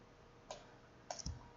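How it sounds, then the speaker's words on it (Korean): Faint mouse clicks while shapes are selected in PowerPoint: a single sharp click near half a second, then a quick pair around one second in, each brief and isolated over low background hiss. "선택 그냥 마우스로만 클릭한 겁니다"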